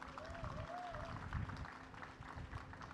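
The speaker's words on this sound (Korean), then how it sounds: "여러분 큰 박수 한번 보내주시기 바라겠습니다" A crowd applauds at the opening ceremony of a seaside festival in Hwaseong, a faint, distant clatter of clapping under rumbling background noise, with a brief whistle-like tone early on and voices mixed in.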